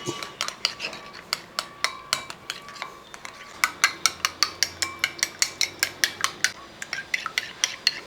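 Beaten eggs with salt and pepper powder get whisked in a bowl, producing a rapid run of crisp, regular clicks as the utensil strikes the sides, close up and with no voices.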